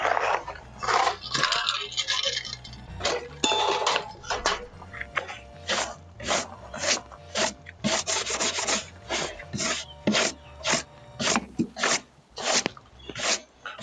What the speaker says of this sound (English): Trim these excess pieces off and then see if it fits.